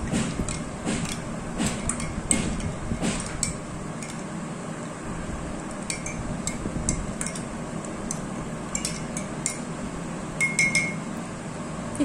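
A spoon stirs a drink containing cinnamon sticks in a glass, giving a steady run of light clinks and taps against the glass over soft scraping, close and fairly quiet.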